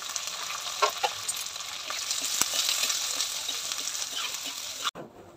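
Green chillies frying in a pan for a fish curry, a dense, close crackling sizzle with a few sharp spoon taps, ending abruptly in near silence, no voices.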